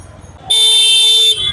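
A single short, loud vehicle horn toot lasting under a second, close by, over faint traffic rumble.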